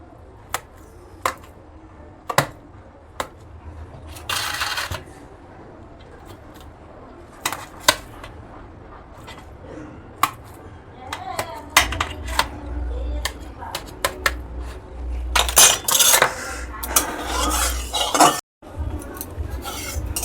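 A knife cuts boiled eggs for a spicy egg curry, producing sharp scattered clicks and taps against a plate or board, with a few brief clattering bursts of utensils in between.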